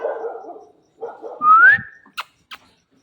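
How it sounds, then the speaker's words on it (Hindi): A dog barks near goats on a goat farm: a couple of short, sharp barks near the end follow earlier whistle-like tones and an animal call. "कुत्ते की आवाज़ आ रही है ना, उससे डर रहा है ये।"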